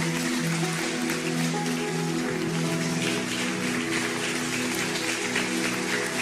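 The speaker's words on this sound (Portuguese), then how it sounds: "fica de pé e aplauda ao Senhor" A church congregation stands and applauds during a sermon, steady loud clapping spread across the room and mixed with sustained tones and crowd noise throughout.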